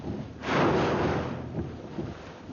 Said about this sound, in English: A ferocious onslaught by wind and rain